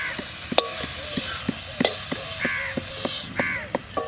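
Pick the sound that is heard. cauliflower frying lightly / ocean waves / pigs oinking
cauliflower frying lightly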